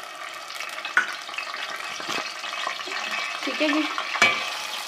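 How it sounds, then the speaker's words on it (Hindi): A small ground onion hits hot ghee for nihari, setting off a steady sizzle with a few sharp spoon knocks against the pan as it is stirred, and a brief spoken word over it. "तो घी हमारा गर्म हो गया है तो अब हम इसमें डालते हैं, बिल्कुल एक छोटी सी प्याज है मैंने इसको पीस लिया है।"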